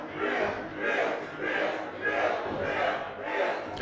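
A wrestling crowd at a live show cheers and chants in rolling waves, a dense, loud roar of many voices swelling and easing about every half second.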